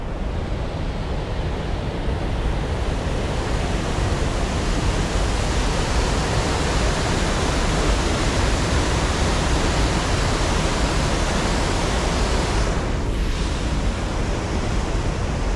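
Steady, loud rush of cold water pouring over the Weir Dam on the South Holston River, a dense continuous roar with no break and no voices for the whole stretch.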